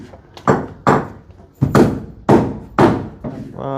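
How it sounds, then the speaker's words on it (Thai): Hammer strikes driving nails into a wooden door frame during installation, six or seven heavy, close thuds at uneven intervals with quiet gaps between blows. "นี่เขาต้องไล่ตอกดันหัวตะปูลงเนาะ"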